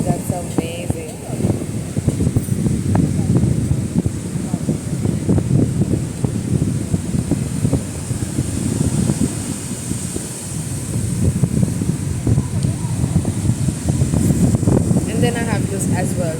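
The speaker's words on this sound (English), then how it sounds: "It's full windy over here" Strong wind on the beach at Koh Phangan buffets the microphone as a steady, loud roar with constant rumbling gusts throughout, with no clear voices over it.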